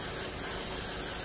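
Steady, continuous hiss of a spray washing a dirty metal part clean, even and close-up, with no pauses and no voices.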